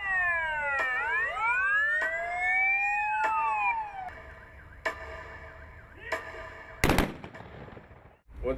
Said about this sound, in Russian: Вот сейчас вой сирены,